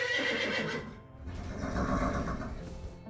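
A horse neighs loudly and close in The 11th Hour video game, a long whinny that dips briefly and then rises again into a second drawn-out cry, with no talking over it.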